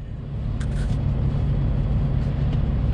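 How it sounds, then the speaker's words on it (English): A flatbed truck's engine, just revived by a jump start, idles in a steady, loud low rumble outdoors on a cold, windy day, continuous and close with no talking. "as you can probably hear, the truck is now running"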